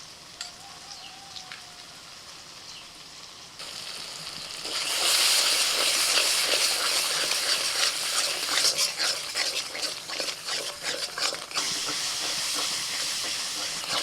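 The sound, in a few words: frying masala paste with coconut, cashew and melon seed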